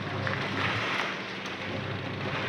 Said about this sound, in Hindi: ज़्यादा हवा भी चल रही है और एकदम बारिश भी बहुत तेज़ शुरू हो गई है।